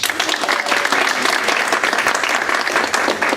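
A conference audience applauds a speaker at an event on faith traditions and water, with dense, loud clapping from many hands, sustained evenly from start to finish.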